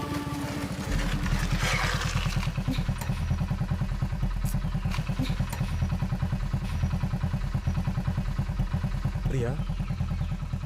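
A motorcycle carrying two riders rumbles steadily over a rough road, with rattling and clattering over bumps, close by, while voices talk faintly under it.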